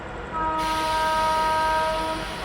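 A train's horn sounds one long, steady, multi-tone blast over the rumble of the railway as the train pulls away after the guard's signal.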